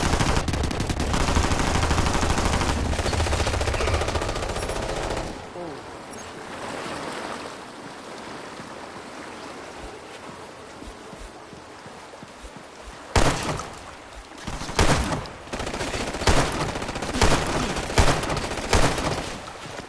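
Gunfire from Ghost Recon Future Soldier while aiming through iron sights: a long continuous automatic burst at first, then a quieter lull, then a rapid series of sharp, loud, evenly spaced shots.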